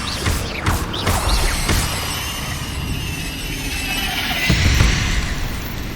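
A Levioso levitation spell cast in Hogwarts Legacy, a swishing magical whoosh with clanking mechanical impacts, layered over busy game effects that swell toward the end.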